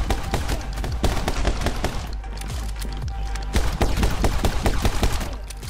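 Rapid video-game gunfire in My Friend Pedro, dense bursts of loud close shots firing almost continuously with short gaps, machine-gun-like volleys stacking over one another.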